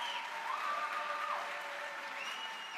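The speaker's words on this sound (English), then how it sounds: "Can we please get another round of applause for our speakers?" A university lecture hall audience applauds the speakers, a dense, steady wash of clapping that carries on evenly for a few seconds, with a faint tonal hum or whistle running beneath.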